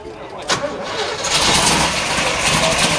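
A Chevrolet COPO Camaro with a 427 engine with solid lifters cranks over and fires up, the starter catching and the motor settling into a loud, steady rumbling idle close by.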